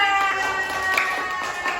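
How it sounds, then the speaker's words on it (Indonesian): Classroom applause for a student group after their presentation during a teacher training assessment: steady, dense clapping from a room of people, moderately loud, with faint voices mixed in. "Tepuk tangan untuk kelompok 2."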